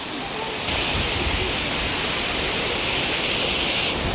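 Mountain stream water rushing down toward the Teesta river in North Sikkim, a dense, loud, continuous roar of flowing water close by, steady throughout with no clear talking.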